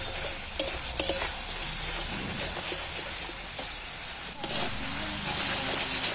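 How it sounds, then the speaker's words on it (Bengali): Spice masala sizzles steadily as it is fried and stirred in a pan for an egg bhapa, with scraping stir clicks over a continuous hiss and faint background voice. "এবার আমি সব মশলাগুলো একসাথে ফের কষিয়ে নিচ্ছি"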